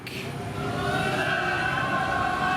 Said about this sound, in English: Hey, I like the noises they're making on that train.